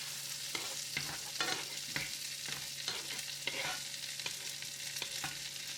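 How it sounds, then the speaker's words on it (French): A sole fries in a bath of butter, a constant close sizzle broken by a series of scraping, clinking strikes of a utensil against the pan, no voices. "Vraiment on va la cuire au beurre"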